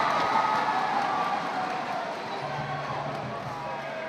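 A crowd murmurs and reacts in an arena during a professional basketball game between Saigon Heat and Singapore Slingers, a steady, broad roar of voices with faint court sounds underneath.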